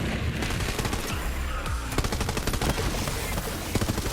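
A shotgun fires repeatedly in the video game Borderlands 3, sharp blasts cracking out in a fairly steady rhythm over dense, continuous game noise and effects, loud and close throughout.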